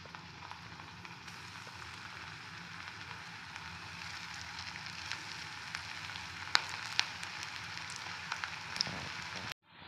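Potato balls fry in hot refined oil in a wok with a steady, soft sizzle and bubbling hiss, broken by a few sharp pops, with no talking.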